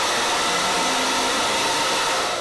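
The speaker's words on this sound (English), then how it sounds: "I'm gonna only blow dry her roots." A hair blow dryer roars steadily while drying roots over a brush, loud and close, a continuous airy rush with no talking.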